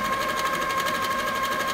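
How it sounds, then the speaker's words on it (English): A sewing machine stitching close up-and-down matchstick quilting lines on a quilt block, a steady rapid mechanical hum with even stitch pulses, loud and close, running alone without talk. "I've just done my up and down matchstick type quilting just to push that down in the middle"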